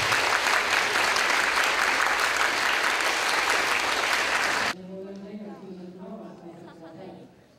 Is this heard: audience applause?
yes